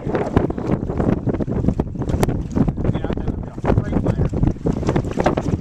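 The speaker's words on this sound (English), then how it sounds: "It's windy." Strong, gusty wind buffets the microphone outdoors by a lake, with a voice partly audible beneath the roaring bursts.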